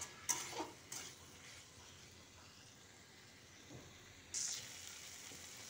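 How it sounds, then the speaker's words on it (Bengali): Chickpea and potato curry masala with about two spoons of sour yogurt sizzles faintly in a pan while being sautéed, with a couple of brief louder stirring clatters breaking the low frying hiss. "তারপর আমি দিয়ে দিয়েছি এখানে 2 চামচ মতন টক দই। দিয়ে খুব ভালোভাবে এটাকে কষিয়ে নিচ্ছি।"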